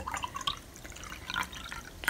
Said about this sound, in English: now you're going to need to add a little bit more water into your jar